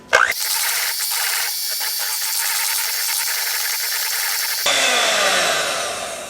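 Electric mixer whirring steadily as it blends pumpkin cheesecake batter with vanilla extract and pumpkin pie spice, a loud continuous close motor whine that shifts in pitch near the end.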